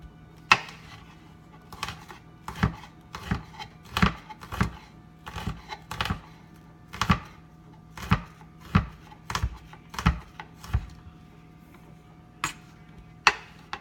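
Heirloom tomatoes being sliced on a cutting board, a series of crisp knife taps landing about once a second, close and clear with no talk.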